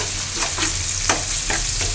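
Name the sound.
ginger garlic paste frying in oil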